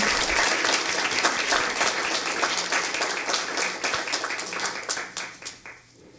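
A school board meeting audience gives another round of applause for staff marking 20 years of service, a loud, close burst of many hands clapping that thins into scattered claps and fades out near the end.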